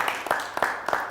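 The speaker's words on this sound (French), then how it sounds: "Merci de l'applaudir pour sa prestation" Applause rises for the young artist King Mighty at a televised show in Burkina Faso, with a brief stretch of steady, moderately loud clapping in a rhythmic pattern.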